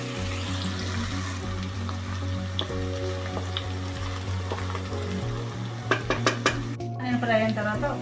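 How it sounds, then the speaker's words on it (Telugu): Onions fry in a pan for mutton curry, a steady close sizzle under a low hum, with metal spoon scrapes and clinks against the pan growing busier near the end, no talking. "ఆనియన్ బాగా ఫ్రై చేద్దాం."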